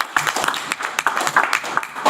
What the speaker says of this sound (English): I think we deserve to give them a round of applause.